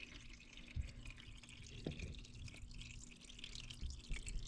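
Engine oil draining from a 2023 Yamaha Tenere 700 during an oil change, heard as a few faint, scattered drips and small splashes over a quiet background.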